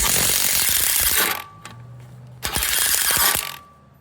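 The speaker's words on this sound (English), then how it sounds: "you can easily fit your impact right here and loosen up the bolts right here" An impact wrench hammering loose the 17 mm brake caliper bolts on a Lexus SC300, two loud rattling bursts close up separated by a short quieter pause.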